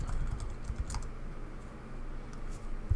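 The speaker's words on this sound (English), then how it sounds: "Type in the password." A short run of soft keystrokes as a password is typed on a computer keyboard, quiet and close, with a few separate clicks over a low background hum.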